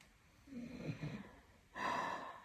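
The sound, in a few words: dog snoring asleep on the couch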